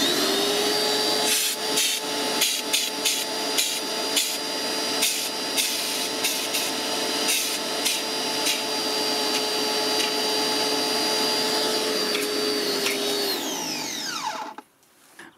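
A Parkside PHD 110 pressure washer runs steadily and loudly at close range with a constant motor whine and hiss, intermittent clicks and surges, then winds down and cuts off near the end.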